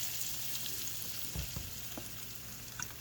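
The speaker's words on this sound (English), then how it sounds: "And now I'm gonna throw some olive oil in there." Olive oil and green seasoning sizzle in a pot for callaloo, a steady close crackling fry with a few soft stirring knocks, no talk over it.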